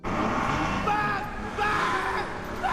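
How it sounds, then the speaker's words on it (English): A car racing away at full speed in a movie scene, a loud continuous engine roar with tire noise that surges and holds for a few seconds. "He gets in the car and races it at full speed"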